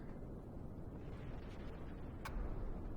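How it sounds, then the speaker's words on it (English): Rocket explosions in Kerbal Space Program, a low, continuous rumbling roar that stays steady and swells slightly toward the end, with no talk over it. "More explosions."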